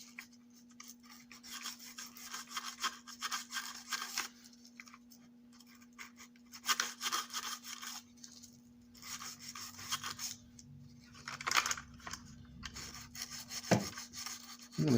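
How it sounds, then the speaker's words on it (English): Fine sandpaper rubbing model train wheels clean, close repeated scratchy strokes in short bursts over a steady faint electrical hum, with no talking. "So we're going to take this little piece of fine sandpaper."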